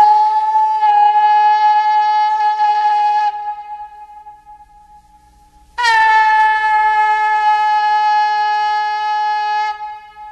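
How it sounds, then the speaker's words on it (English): A long, steady shofar blast holds one pitch, breaks off into a brief quiet, then sounds again loud and sustained before fading. "you're going to hear the shofar at the beginning"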